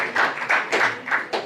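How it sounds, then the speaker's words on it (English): Audience clapping at a book launch in Lagos, several short bursts of hand claps coming in quick rhythmic waves over about a second and a half, moderately loud and close, with no talking. "You can clap if you want to clap."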